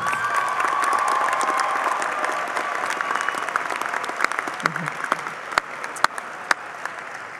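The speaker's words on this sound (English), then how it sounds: "Graduates, give your parents and families a round of applause." Audience at a high school graduation ceremony gives a sustained round of applause for the graduates' parents and families, dense clapping with scattered cheers that thins out toward the end into individual sharp claps.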